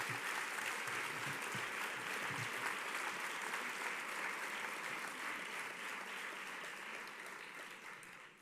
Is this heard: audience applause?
yes